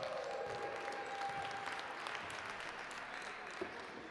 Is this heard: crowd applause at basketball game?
yes